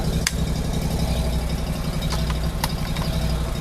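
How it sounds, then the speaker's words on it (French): The petrol engine of a drain-cleaning unit runs steadily, a continuous rumbling idle with a few sharp clicks and taps over it. "Non, c'est un moteur essence."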